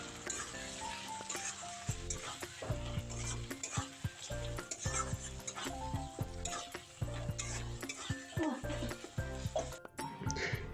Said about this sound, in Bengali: তো এটাকে ভালো করে মিশিয়ে ভালোভাবে মশলাটাকে কষিয়ে নেব।